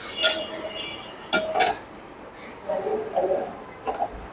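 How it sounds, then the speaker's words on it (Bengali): A metal lock hanging on a motorbike jangles in a few short, bright bursts of clinking, separated by brief pauses, close by and moderately loud. "বাইক যখন চলে তখন হচ্ছে এটা ঝনঝন শব্দ করে"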